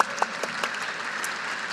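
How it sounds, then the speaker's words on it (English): An audience breaks into applause, starting with a few sharp claps that quickly swell into a sustained, even crowd clapping. "I'm gonna start the clap on that one."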